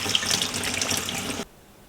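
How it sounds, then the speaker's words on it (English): Food rinsed under a running kitchen tap for a lamb pilaf: a steady close gush of water into the sink that cuts off abruptly, leaving near silence. "Rinse a couple of times and allow it to drain."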